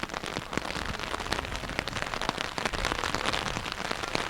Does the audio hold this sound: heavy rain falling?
yes